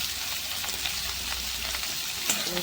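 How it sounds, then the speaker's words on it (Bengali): Bitter gourd pieces fry in hot oil in a pan, giving a continuous crackling sizzle with scattered pops and a few stirring scrapes near the end, close and steady. "তো আগে একটু উচ্ছেটা ভেজে নিই"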